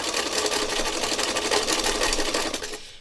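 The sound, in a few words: sewing machine sewing ribbon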